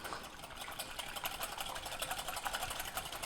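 One large egg is lightly beaten with a fast, steady, even run of soft rhythmic ticks that keeps going throughout at a moderate level, with no talk.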